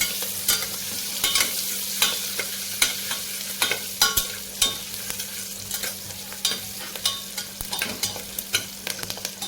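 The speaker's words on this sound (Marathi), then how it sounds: "कांद्याला गोल्डन ब्राऊन ब्राऊन रंग येईपर्यंत आपल्याला कांदा तेलात परतून घ्यायचा आहे" Onions frying in oil in a pan for Maharashtrian masala rice, with a steady close sizzle and irregular sharp scrapes and clicks as they are stirred.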